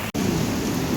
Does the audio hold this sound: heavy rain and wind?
yes